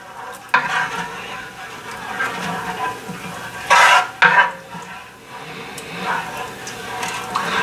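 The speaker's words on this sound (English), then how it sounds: "let me go ahead and give that a stir really quick" Chicken and mushrooms are stirred in the pan of a Ninja Combi cooker, with scraping and clattering utensil sounds over a soft background sizzle, including a few louder scrapes close up.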